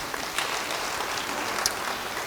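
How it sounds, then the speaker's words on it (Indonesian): Church congregation claps together in a brief, steady burst of applause, dense and even from start to finish, with no voices standing out. "Beri tepuk tangan bagi dia."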